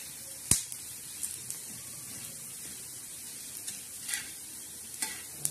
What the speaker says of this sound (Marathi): तर आता बघा, हे धने असे लालसर मस्त भाजलेले आहे.